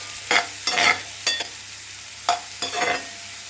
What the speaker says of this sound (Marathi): कांदा जोपर्यंत इथं भाजतोय